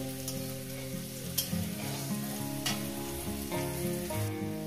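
Mashed rui fish fries with mustard greens in a pan over very low gas, giving a soft, even sizzle over a background of steady tonal sounds.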